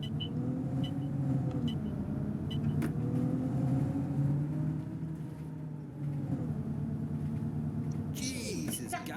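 A London Citybus Enviro 400 double-decker bus in the OMSI 2 driving simulator, its engine droning steadily with shifting tonal whine as it pulls away, loud and continuous, ending in a brief hiss of air near the finish.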